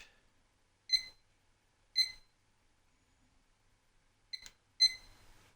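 A kitchen timer being set gives four short, sharp electronic beeps, two evenly spaced and then a quick pair, close and clear in otherwise quiet surroundings.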